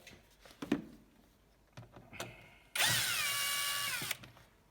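A cordless power drill or driver unscrews the screws on a car's air cleaner housing, giving one loud whirring burst of about a second and a half, preceded by scattered clicks and handling knocks.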